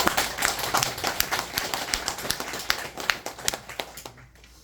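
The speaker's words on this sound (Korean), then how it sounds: "저희 유민호 대표님한테 박수 한번 드릴까요?" Scattered applause for a team's CEO at a gathering, a modest group clapping with distinct, uneven hand claps that thin out and fade near the end.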